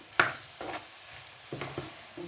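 Chopped zucchini sautéing in a pan with dill while being stirred, giving quiet scraping stirs and soft sizzling in a few short bursts, close up and without talk.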